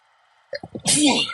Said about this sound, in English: Sorry, I think I'm about to sneeze